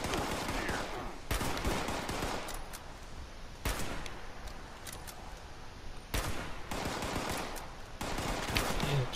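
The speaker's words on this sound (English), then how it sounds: "What are you using, a submachine gun from 50 feet?" Submachine gun fire in Fallout 76 comes in several sharp, loud bursts spaced a couple of seconds apart. Steady game ambience fills the gaps between them, with no voices.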